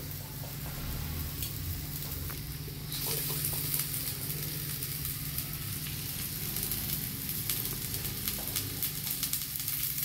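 Onion and garlic fry in a pan for a Bengali egg tarka, producing a steady, close sizzle that swells slightly after the first few seconds and continues evenly.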